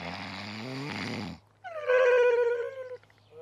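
In a children's television show, a performer makes loud, exaggerated comic snores that sound voiced and tonal, like an imitation. One long, rumbling inhale is followed by a brief pause and then a whistling, wavering exhale.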